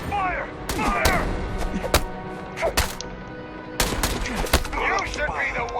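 Gunfire in the video game Starfield, several sharp, loud shots and bursts fired in clusters with gaps between them, mixed with a shouted voice and other game effects.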